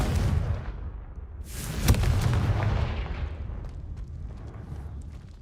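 A Confringo fire blast spell erupts in Hogwarts Legacy as a deep rushing boom with a sharp crack near the middle, then rolls off into a fading fiery roar with no voices.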